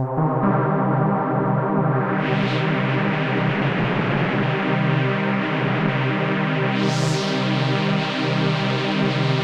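A loud, sustained synth pad in Bitwig's Grid drones through a Moog-style resonant low-pass filter sweeping open and closed twice, brightening and darkening the tone.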